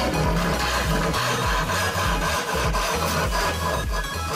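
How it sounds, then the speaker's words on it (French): A hand saw cutting notches in wood for a wooden beer advent calendar, rhythmic back-and-forth rasping strokes repeating steadily, close and fairly loud. "On a donc commencé par scier toutes les encoches."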